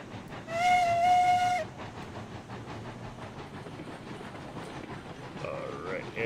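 A steam locomotive in the train game RailRoads Online gives a short, loud whistle blast, then settles into a low, steady rumble as it slowly pulls away.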